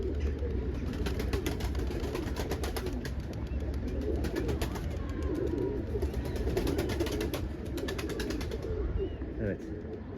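Pigeons released in a training flight coo softly outdoors while wings flutter in repeated bursts, with people talking over a steady background of wind and ambient noise.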